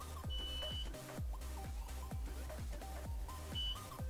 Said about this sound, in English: make sure that you hold it for at least, we'll say 3 seconds until you hear a beep